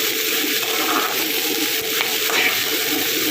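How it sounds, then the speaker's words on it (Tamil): Chopped carrots and beans sauté in a pan for an Indian vegetable gravy, giving a steady, close sizzle and crackle that runs unbroken from start to finish with no talking. "அப்புறம் வெட்டி வச்சிருந்த கேரட்டையும் பீன்ஸையும் அது கூடவே சேர்த்து அதையும் நல்லாவே நம்ம ஒன்று வதக்கி வைப்போம்."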